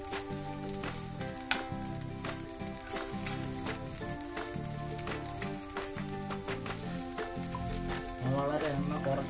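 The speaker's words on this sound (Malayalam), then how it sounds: "വളരെ എണ്ണ കുറച്ചാണ് ഇത് ഫ്രൈ ചെയ്തെടുക്കുന്നത്." Uluva fish shallow-frying in a pan with only a little oil, a steady dense sizzle that runs the whole time, with a musical background loud throughout and a few light clicks.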